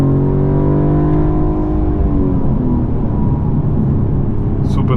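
A 2024 Mercedes-Benz CLE450 coupe engine pulls hard, its pitch sweeping upward in a smooth, loud, steady drone heard from inside the cabin, which then settles into a lower rumble.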